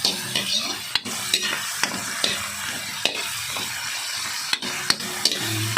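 Talakitok fish sizzles steadily as it fries in a pan, with sharp clinks and scrapes from a utensil stirring at irregular intervals, close and alone.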